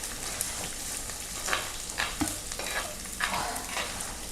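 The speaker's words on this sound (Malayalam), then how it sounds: "ഒരു ചെറിയ കുടം വെളുത്തുള്ളി അത് കൂടി കിടന്ന് ഒന്ന് മൂക്കട്ടെ" Onion and a small pod of garlic frying in oil for a Kerala-style egg-fish curry, with a steady sizzle broken by several louder scraping stirs of a spoon in the pan.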